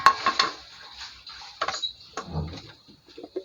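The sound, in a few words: vegetables being added to a pot of boiled pork ribs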